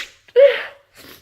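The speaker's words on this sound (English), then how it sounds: "I have to sneeze." A single sneeze from a woman: a quick sharp intake, then a loud, close burst that tails off, followed by a soft breathy exhale.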